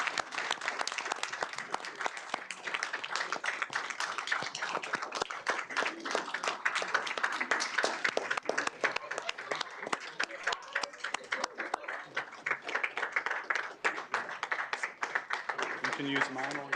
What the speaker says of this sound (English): Please join us in a round of applause for our preschool and elementary principals.